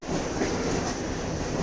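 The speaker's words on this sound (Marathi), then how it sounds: "कोणती ट्रेन येते ती बघूया" A Mumbai local train rolls steadily nearby, a continuous rumble and rattle of carriages with no voices over it.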